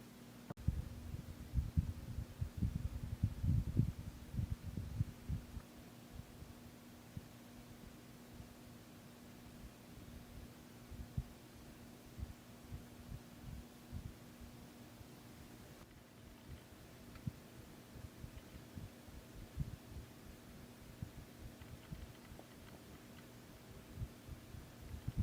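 A 1996 Casablanca Star 132 cm ceiling fan turns at about 80 RPM, making a faint, steady low hum with soft rhythmic throbbing and a light background hiss.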